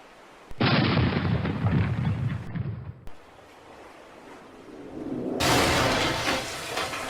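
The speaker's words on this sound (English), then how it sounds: "Load the cannon! Prepare to fire!" Two loud, booming cannon-like blasts go off in a pirate play on Halloween, each followed by a long rumbling decay and a hissing, surf-like wash, with a short pause between them.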